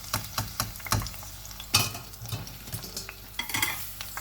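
Homemade potato fries sizzle in hot oil with onion, close and lively, with irregular stirring clinks and utensil taps against the pan.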